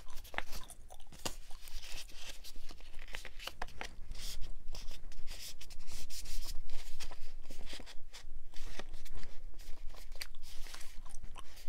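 Stiff paper being folded and creased by hand into a ddakji tile, a continuous run of close, crisp crinkling and rustling crunches with sharp snaps, fairly loud and steady throughout with no talk.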